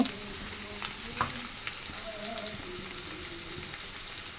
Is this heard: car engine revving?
no